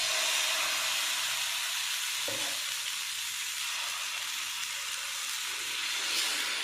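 Dosa batter sizzles on a hot pan with a steady, dense hiss that holds throughout, close and fairly loud, with a faint clink partway through and no talk.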